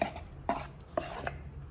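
Brownie batter being mixed in a bowl, a few distinct scraping strokes of a utensil against the container spaced roughly half a second apart, close and fairly quiet.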